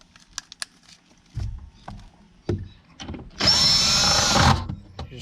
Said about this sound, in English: we're going to grab our screw gun.